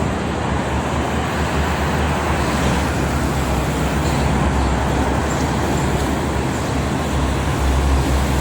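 Heavy traffic dominated by trucks on the Jakarta–Cikampek toll road, a loud, continuous roadway roar with deep engine rumble and tyre hiss as vehicles pass steadily.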